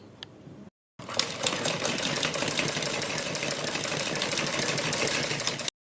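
Sewing machine running a steady stitch along a folded-in fabric edge, a fast continuous rhythmic clatter that starts after a brief pause and keeps going to the end, loud and close with no talking.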